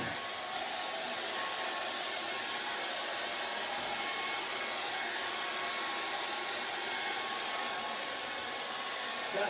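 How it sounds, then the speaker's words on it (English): Hair dryer blowing continuously at close range over acrylic paint on a portrait, a steady loud whooshing hum with no breaks. "use the hairdryer."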